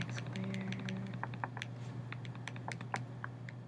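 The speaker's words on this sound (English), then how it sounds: "Let me make sure I've got that all typed in." Rapid, irregular key clicks of someone typing on a computer keyboard, entering a math expression, fairly close and steady over a low hum, with no voices.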